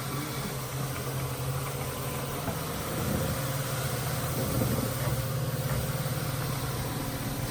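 A refurbished Advance CS7000 floor scrubber runs on battery in one-touch scrub mode, giving a steady low motor hum with a faint whine, swelling slightly midway and holding on.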